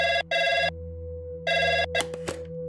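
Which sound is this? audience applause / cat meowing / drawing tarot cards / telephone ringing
telephone ringing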